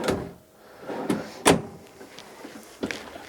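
A small drawer in the bathroom vanity of a 2015 Winnebago Vista 35B Class A motorhome slides and knocks, a few short close clacks and bumps spread across a quiet interior, no talking.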